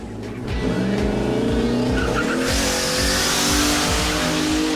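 A pickup truck spins its tires in a burnout on a drag strip, a loud continuous engine roar with rising revs and harsh tire squeal that thickens into a broad hiss halfway through, with no talking.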